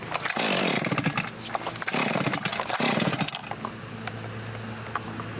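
A fuel-injected Stihl MS 500i chainsaw limbs firewood, snarling loud and close in repeated high-revving cuts that drop back to a lower idle toward the end.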